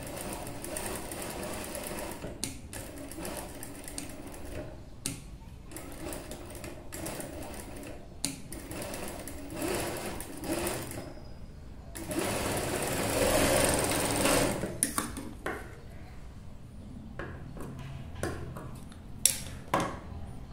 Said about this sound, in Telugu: చాలా జాగ్రత్త కుట్టండి, ఇది కొంచెం క్రాస్ ఉంటుంది కాబట్టి.